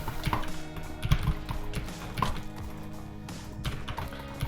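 Keys click at an irregular pace in brief bursts, close and fairly faint, with no voices.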